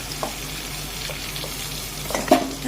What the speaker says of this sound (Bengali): দেখুন, কুমড়োগুলো প্রায় ভাজা হয়ে গেছে মোটামুটি